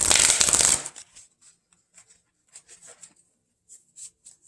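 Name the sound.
shuffling tarot or oracle cards to draw a card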